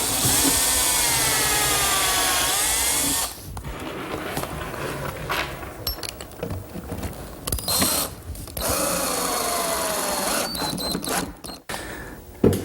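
A power drill drives screws to attach a platform to a kitchen island cabinet. Two close, loud bursts of whining motor speed up and slow down, separated by quieter workshop clatter and handling noises.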